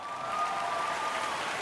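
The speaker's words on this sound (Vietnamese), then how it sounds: "Một tràng pháo tay thật lớn nữa đúng không quý vị?" A studio audience at a televised Vietnamese performance show claps in a dense, even, rain-like wash of applause at moderate loudness, with no one speaking over it.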